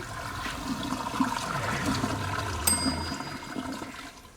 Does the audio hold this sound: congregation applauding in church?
no